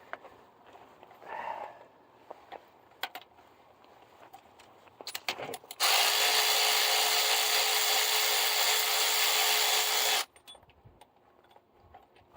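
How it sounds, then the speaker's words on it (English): Cordless Milwaukee power ratchet spinning bolts out of an Allison MH3000 transmission during a service, a loud steady whir lasting about four seconds after scattered tool clinks and rattles. "If you don't have one of these nifty little Milwaukee ratchets"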